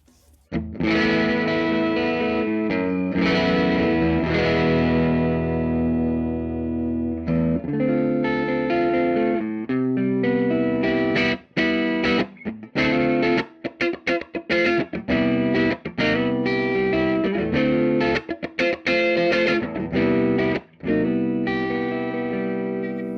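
Distorted electric guitar through an amp simulator with added room sound, playing sustained chords and then choppy riffs, with a roomy, slightly reverberant tone, loud and continuous with no talking.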